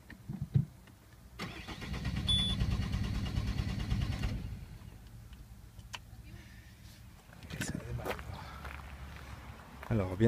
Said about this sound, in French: On va mettre un petit coup de clé démarrage moteur.